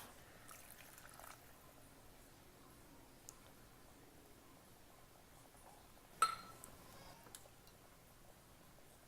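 Water is poured into an Instant Pot over soaked chickpeas for chana masala, a faint, brief pour with a light clink partway through and little else around it.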